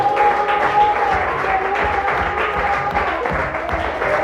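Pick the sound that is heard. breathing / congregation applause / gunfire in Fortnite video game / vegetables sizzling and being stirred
congregation applause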